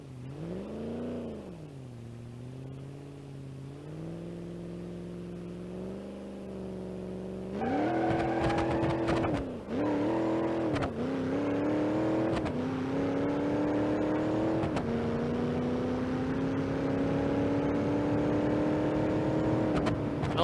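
A car engine in the BeamNG.drive driving game idles, then revs hard and climbs steadily in pitch through the gears, loud and continuous with no talk.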